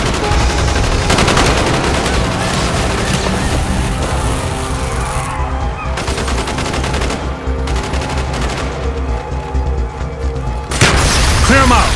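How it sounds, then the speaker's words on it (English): Sustained gunfire in Call of Duty: Black Ops street fighting, dense automatic bursts and explosive booms filling the scene loudly, with brief pauses between volleys and combat voices mixed in. "Bowman, Carlos, lay down covering fire."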